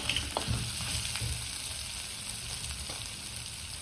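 Steady oily sizzling of ginger-chilli paste frying in a pan, continuous and close, with a few soft stirring scrapes and no voices.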